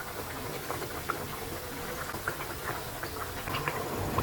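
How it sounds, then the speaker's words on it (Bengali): Potato and flour snack pieces frying in hot oil, a steady close crackle and fizz with scattered small pops throughout, no voices. "আর এক পাশ ভাজা হয়ে গেলে আমি অপর পিঠ এভাবে উল্টিয়ে নিচ্ছি।"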